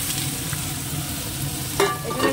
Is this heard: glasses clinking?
no